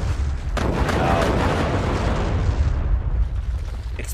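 Explosions from a powder blast in Final Fantasy Tactics on PSP: a sudden loud boom followed by a sustained roaring, rumbling blast that fades slowly over a few seconds.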